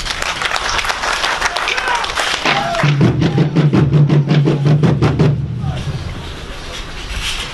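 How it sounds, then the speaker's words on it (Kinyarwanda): Crowd applause at a Burundian made-in-Burundi products fair, a dense wash of many hands clapping that swells into louder, rhythmic unified clapping midway, with voices mixed in before it fades. "Ndabasaba muhamera amashyi menshi cyane"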